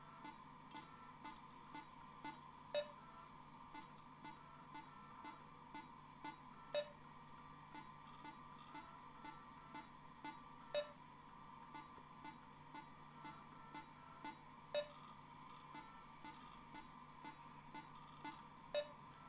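Short electronic calibration beeps in a video game's audio-sync setup repeat at a steady, even rhythm throughout, moderately quiet over a constant hum, with some beeps slightly stronger than others.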